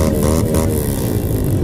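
A motorcycle engine rumbles loud and close on a city street, a steady buzzing drone with no voices over it.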